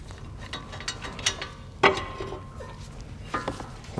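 Tools clatter and click quietly while a 1/2-inch breaker bar with a 21mm socket works on the brake carrier bolts of a 2012-2018 MK6 VW GLI: scattered metallic taps, a sharp snap near the middle and soft ratchet-like ticks.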